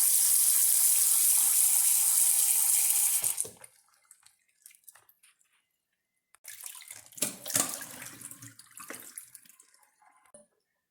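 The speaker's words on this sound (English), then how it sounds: "This is the 3rd time we're rinsing it." Tap water runs loudly into a kitchen sink for about three seconds while dessert ingredients are rinsed, then stops, and after a short pause comes a softer stretch of splashing and handling of the wet ingredients.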